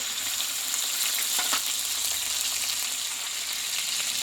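Ginger paste, cumin paste and tomato fry in oil for Bengali mutton, an even, continuous sizzle throughout the short stretch with a brief stirring scrape midway.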